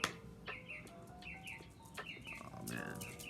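Small birds chirp and tweet repeatedly outdoors near a dog, their quick bright calls overlapping above a steady hiss of background ambience.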